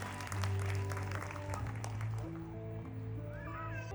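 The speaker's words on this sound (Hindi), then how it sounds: "Parents please तालियां बजाइए." Parents applaud at a school event, a scatter of clapping that thins out over a few seconds against a background of sustained tonal sounds.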